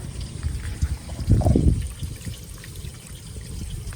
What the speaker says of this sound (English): This one has a black wastewater tank flush, so I just run the fresh water through it